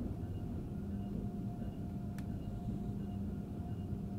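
An Acela Express high-speed train on the Northeast Corridor near Boston in Train Sim World 4 runs with a steady low rumble and hum, with a brief faint high click partway through and no talk.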